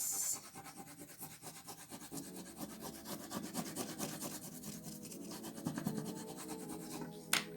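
Pencil and eraser rubbed back and forth on paper during a drawing lesson, giving a steady, close scratchy rasping that continues throughout with brief pauses and no talk.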